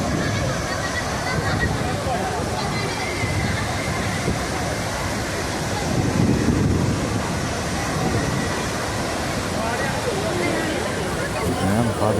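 Wind-driven spray and roaring water at Athirappilly waterfall, a steady broadband rush with gusty swells, close and continuous throughout.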